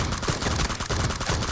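Dense, continuous automatic rifle fire from M416 and SCAR-L guns in a team deathmatch shooter game, with rapid overlapping shots rattling loud and close throughout.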